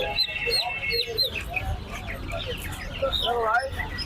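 Chickens at a poultry seller's stall cluck and squawk in short repeated bursts, close and fairly loud, with someone talking over them in places.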